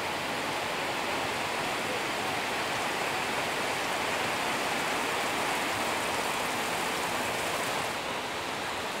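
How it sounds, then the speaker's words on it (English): Heavy rain pours down in a dense, continuous roar over the tents of Pattavikorn Market, a second-hand market in Bangkok, steady and loud throughout with no talking. "I'm not sure if you can hear that rain in the background,"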